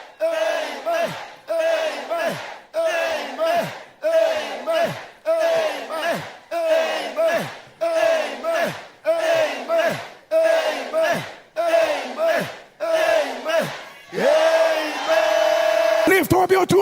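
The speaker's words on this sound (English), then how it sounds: "Lift up your two and shout, the mercy of God has prevailed." A church congregation at a prophetic prayer service shouts loudly in unison, about a dozen rhythmic bursts of roughly a second each separated by short pauses, ending in a sustained roar.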